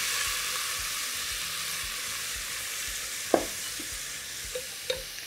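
Garlic frying in oil in a pan gives a steady, bright sizzle throughout, with a few sharp clinks of a spoon toward the end and no talking.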